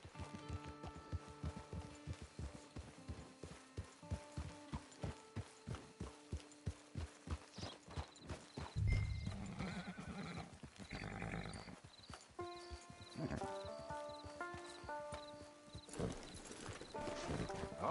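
In the Red Dead Redemption game, a horse's hooves clip-clop in a steady rhythm that slows and stops, followed by a loud neigh and snorts over game music.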